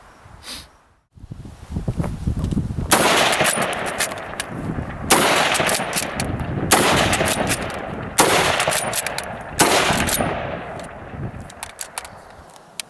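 An M1916 Spanish Mauser rifle chambered in .308 fires five loud, close shots, spaced roughly a second and a half apart, each cracking sharply and then trailing off into a rumbling echo.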